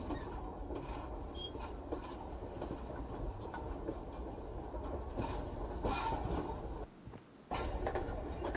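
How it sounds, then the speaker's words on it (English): A loud train rolls past in a haunted PS1-style horror game demo, a dense rumbling clatter of rail noise that drops out briefly near the end and then surges back. "That's an aggressive train."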